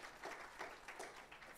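Applause from the audience at a tax summit on customs systems in Kenya, greeting a Kenya Revenue Authority guest; a brief, steady patter of many hands clapping at moderate distance, fairly faint, with no talk over it.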